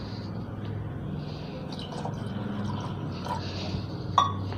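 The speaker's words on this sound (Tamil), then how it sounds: "இப்போ கொஞ்சம் தண்ணி ஊற்றிக்கலாம்." Water poured gently into a bowl of hand-mashed tamarind for rasam, a soft steady trickle close by, ending with a small clink of the vessel.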